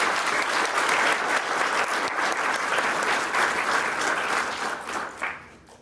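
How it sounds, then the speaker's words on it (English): Steady, dense applause from an audience at an art and essay contest awards ceremony, sustained and full for several seconds before tapering off at the end. "Everyone, even those I may not have mentioned, who helped pull this thing together deserves a round of applause."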